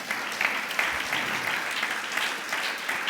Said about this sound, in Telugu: నా కుటుంబాన్ని ఈ రోజు నుండి నేను కట్టుకుంటాను అన్న వాళ్ళు ఒక్కసారి చప్పట్లు కొట్టండి.